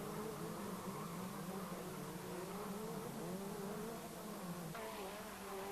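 Race cars driving past on the 1991 Vila Real street circuit, heard from a distance as a faint, steady whine of engines with rising and falling pitch as they pass, no talking.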